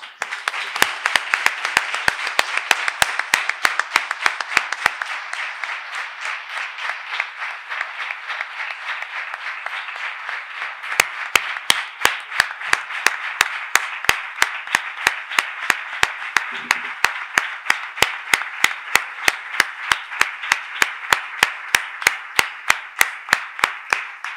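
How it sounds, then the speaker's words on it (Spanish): A large crowd applauds loudly and continuously at a town festival proclamation, with rhythmic sharp claps punctuating the steady roar throughout. "os pido por favor un gran aplauso"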